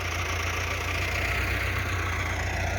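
A Massey Ferguson 375 tractor engine runs steadily up close, a loud, even diesel drone with a low throbbing idle and no voices.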